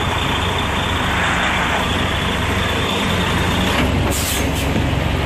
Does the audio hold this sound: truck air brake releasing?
yes